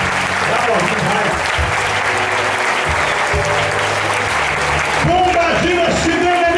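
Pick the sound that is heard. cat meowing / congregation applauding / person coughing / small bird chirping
congregation applauding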